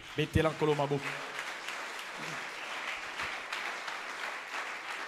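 Church congregation applauding, a steady wash of clapping that follows a brief spoken voice, continuing evenly at moderate volume.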